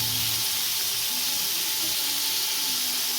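Potatoes frying in a pan with a little salt and turmeric while cooking banana flower with prawns. A steady, close, even hiss of sizzling oil runs without a break for the whole stretch.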